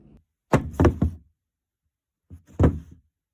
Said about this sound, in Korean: 책상에 이렇게 누워있던 마크가 일어나면서 발이 이렇게 투둑 하는 거를 제가 했었습니다